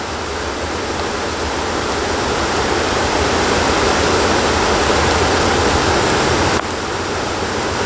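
A river swollen with creek water rushes past in a loud, constant roar of churning flow that fills the whole span without a pause, with no voices.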